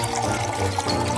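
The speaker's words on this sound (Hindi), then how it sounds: "चलो इसे इस ग्लास में डालती हूँ।" A mixed drink poured into a glass, a short continuous liquid splash and gurgle heard close up with no voices.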